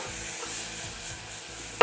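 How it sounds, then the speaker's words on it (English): Smoked bacon lardons fry in oil in a saucepan, giving a soft, continuous sizzle with light stirring scrapes, ending in a brief louder knock. "Next, let's add in the smoked bacon lardon."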